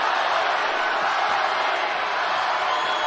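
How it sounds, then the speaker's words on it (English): An arena crowd cheering for Holly Holm at a fight, a steady loud wash of roaring voices with no breaks, sustained and distant-sounding throughout. "Crowd getting behind Holly Holm as she tries to slay the dragon tonight"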